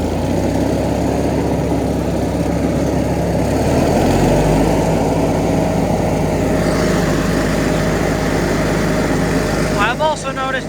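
A John Deere 420 lawn tractor with a 20 horsepower Onan engine and 60-inch deck, running slightly rich, drones steadily and loudly nearby, with someone talking over it.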